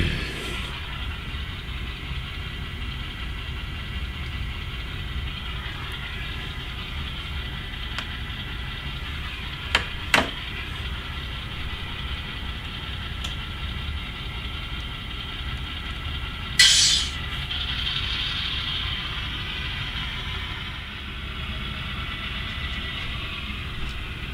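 A locomotive pulls empty railcars out of the BASF plant in a steady low rumble with hiss, broken by a few sharp clanks near the middle and a brief loud burst of air hiss later.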